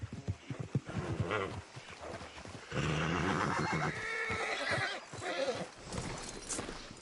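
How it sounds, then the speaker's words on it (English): A horse in the Red Dead Redemption 2 video game neighs and whinnies loudly and close, mixed with clip-clop hoofbeats and a little talk, the main whinny holding for about a second mid-clip. "Damn horse acting up on me."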